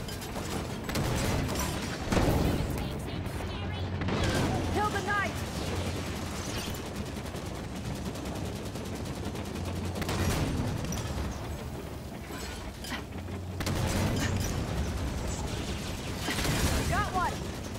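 Gunfire crackles through a firefight in Halo 5 Guardians, with repeated bursts of shots, explosions and mechanical clatter layered under character voices and combat callouts.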